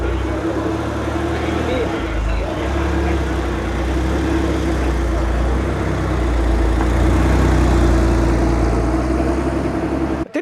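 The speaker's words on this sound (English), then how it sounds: "Favourite car of the day is about to leave. It sounds so silky smooth." A Porsche engine runs smoothly at idle in a hidden parking spot, a steady low, even hum that stays close and constant throughout, with people talking over it.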